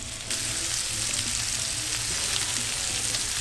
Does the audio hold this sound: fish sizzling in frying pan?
yes